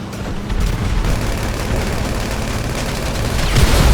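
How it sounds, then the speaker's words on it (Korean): A thrown bomb goes off during a GTA5 car chase, heard as a dense rumbling, booming burst of blasts and crackle that stays loud throughout and rises again near the end. "와 폭탄 던졌다"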